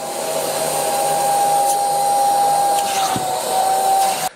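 Carpet injector-extractor vacuum cleaner suctioning across a carpet, a steady, loud motor roar with a high whine that holds for several seconds before cutting off abruptly, with no talking.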